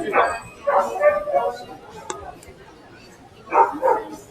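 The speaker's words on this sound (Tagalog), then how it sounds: "Ang laki ng aso." A large dog barks in short bursts at night on a busy city street in BGC, a few deep woofs, a pause, then another pair, with people talking nearby.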